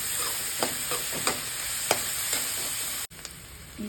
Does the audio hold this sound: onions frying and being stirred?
yes